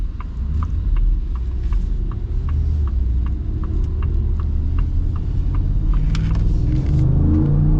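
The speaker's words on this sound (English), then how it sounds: "It's what a truck should sound like." A 2026 Ford F-150 Tremor pickup truck engine accelerating, a loud, steady low rumble with rising revs up close, with light regular ticking above it and no talking.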